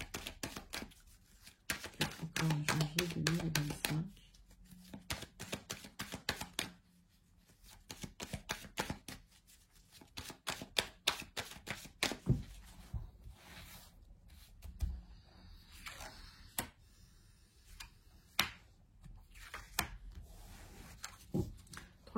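Persian tarot cards of Madame Indira being shuffled by hand, a long run of quick, close riffling flutters and soft slaps with short pauses between bursts, no voices.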